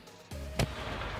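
A cannon fires a cannonball at a wall, one sudden deep boom followed a moment later by a sharp loud crack, then a lingering noisy rumble, heard at moderate distance with no talk.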